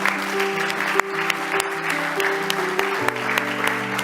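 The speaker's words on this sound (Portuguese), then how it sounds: "dê um aplauso ao Senhor Jesus." Church congregation clapping during a worship service, a moderate wash of hands over sustained organ or keyboard chords, with a few sharper claps standing out.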